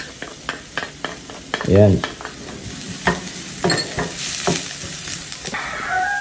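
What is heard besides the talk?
mushrooms sautéing with garlic and onion in a pan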